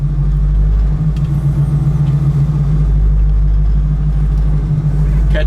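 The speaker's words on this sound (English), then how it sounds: "the idle might have been a little fast with the choke, but man, when you put it in gear, it dropped right down to a beautiful idle" An idling car engine with the choke on gives a loud, close, steady low rumble with a throbbing hum that holds even throughout, and no clear change of pace or voices.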